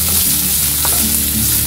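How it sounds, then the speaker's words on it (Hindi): Onions sizzle and fry steadily in a pan, a loud continuous hiss with faint stirring scrapes, no voices. "प्याज को हमें ज्यादा ब्राउन नहीं करना है, पिंक का कलर आ जाए"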